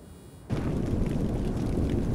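Fire thrown by an opponent in Pixel Gun 3D, a sudden whooshing burst that erupts and then roars on as a dense, sustained rumbling crackle.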